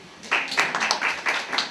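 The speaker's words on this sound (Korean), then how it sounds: "박수!" A small audience claps at a lecture, a short burst of uneven hand claps starting abruptly and continuing for under two seconds.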